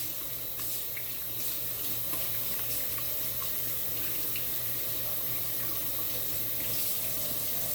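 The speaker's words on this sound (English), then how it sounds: "start proceeding to wash my hands" Hands being washed under a running kitchen sink tap to rinse off dough, a steady broadband rush of water falling into the basin with small splashes, close and continuous throughout with no talking.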